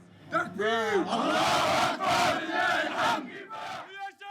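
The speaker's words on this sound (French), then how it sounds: "La foule est électrique." Excited crowd of neighbours, friends and relatives gathering outside a home in Jerusalem, loud overlapping shouts and chants rising in surges, with a nearby voice calling out over the throng.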